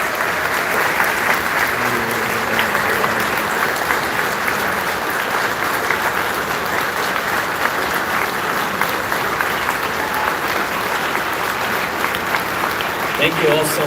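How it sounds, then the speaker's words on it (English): Audience applause at a closing ceremony: sustained loud clapping from a crowd throughout, with voices talking underneath. "So let's give him a huge round of applause."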